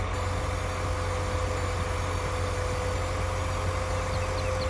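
Steady low engine drone of a tractor of over 300 horsepower, a John Deere 8335 in a farming simulator mod, running continuously at an even, loud level with no talk over it.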